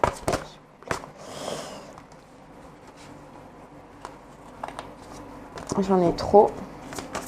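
A deck of divination cards is shuffled up close with soft papery riffles, rustles and scattered sharp snaps. Someone speaks briefly in French partway through, and a denser burst of card clicks comes near the end.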